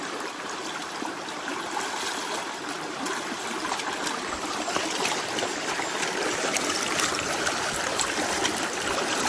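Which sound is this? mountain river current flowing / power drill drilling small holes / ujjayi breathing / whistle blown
mountain river current flowing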